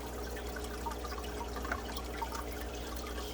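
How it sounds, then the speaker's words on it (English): PraziPro aquarium parasite remedy is poured into a fish tank filter, giving a soft, steady trickle and splash of running liquid with faint drips, close and unbroken for a few seconds, with no talk. "They said to pour it into the filter for best distribution."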